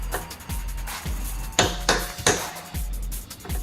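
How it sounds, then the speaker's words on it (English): A small chisel is struck with a hammer against the U-joint retainer of a GMC/Chevy truck, making several sharp metallic smacks in an uneven rhythm at close range, with clinking in between. "So you get your little chisel and smack that."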